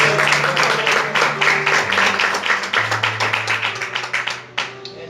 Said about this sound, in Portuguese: Quem pode dar mais uma salva de palmas para Jesus?